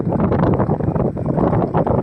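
Strong storm wind in Kathiawad roars steadily and loudly against the microphone, a dense, unbroken buffeting rush that fills the short stretch with no pause.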